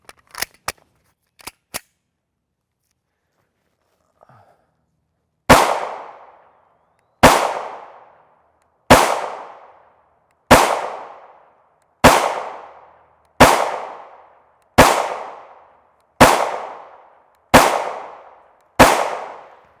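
Ten suppressed gunshots from a Ruger 5.7x28mm pistol with a factory 5.5-inch threaded barrel, firing 40-grain FMJ ammunition. Sharp, loud reports come at a steady pace of about one every 1.5 seconds, each with a short decaying tail, after a few faint clicks.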